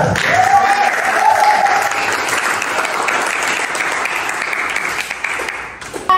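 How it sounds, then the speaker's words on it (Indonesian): A classroom of students breaks into steady applause, close and loud, holding for several seconds before tapering off, with a faint voice underneath. "Selamat, kita tepuk tangan dulu."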